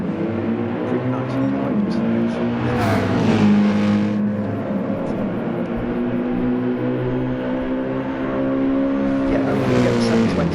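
Naturally aspirated AMG V8 and Lexus GT race cars in Gran Turismo 7 at Circuit Gilles Villeneuve, engines droning loudly and steadily with shifting revs and a pass around three seconds, constant and dense throughout.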